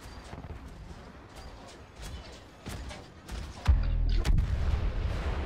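A bomb goes off in Star Wars Battlefront multiplayer, a heavy low boom around the middle that leaves a rumbling blast tail, over a steady bed of distant gunfire and impacts.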